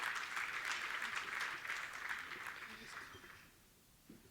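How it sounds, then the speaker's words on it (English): Audience applause at a charity annual dinner and awards night, a dense steady wash of clapping that carries on for about three seconds before thinning out and fading. "Round of applause again, please."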